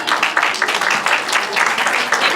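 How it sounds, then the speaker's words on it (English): Audience applauding a member of the Australian Parliament as she comes on stage at the opening of an international exhibition. Steady, dense clapping fills the whole stretch, with no talk. "Clap for her, please."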